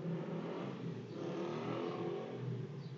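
A motorcycle engine revving nearby outdoors, a steady droning rumble that rises and falls slightly throughout.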